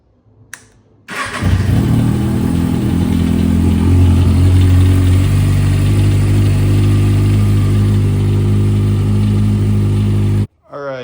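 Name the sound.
Kawasaki ZX6R motorcycle engine running with cam chain rattle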